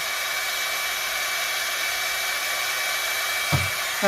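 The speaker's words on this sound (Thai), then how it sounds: "เราใช้ฮิตเตอร์ตัวนี้เป่าเข้าไปนะครับ" A heater blower, used as a heating element for testing an air-conditioning AHU temperature control cabinet, blows hot air with a steady loud whooshing hiss and faint whine, ending with a short bump.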